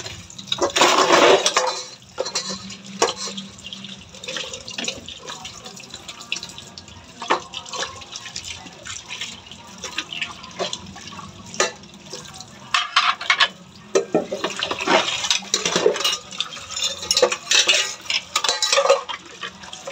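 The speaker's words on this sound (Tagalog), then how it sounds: "Masipag tayo maghugas." Dishes being washed under a running kitchen tap: water gushes and splashes in uneven bursts, with clinks of plates and pots and quieter stretches between, close by.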